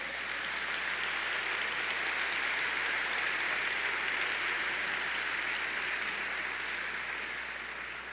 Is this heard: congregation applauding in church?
yes